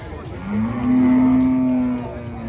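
At a Thai cattle market a cow gives one long, steady moo at close range. It swells and fades across most of the clip over a low background murmur.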